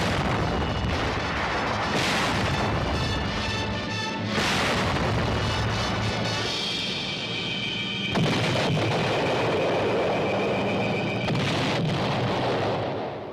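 Heavy artillery fire and aerial bombing pound the fortified Sicilian town of Troina in wartime, a dense, continuous roar of booming blasts and rumbling impacts with repeated louder bursts throughout.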